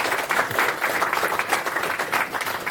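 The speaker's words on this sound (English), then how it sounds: "Please, big round of applause." Close, lively audience applause welcomes a speaker at a Rust programming talk, brisk clapping with pulsing swells, loud and continuous across the whole stretch.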